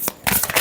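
A deck of tarot cards gets one brief, close shuffle, with two or three soft riffling bursts in under a second and no voices.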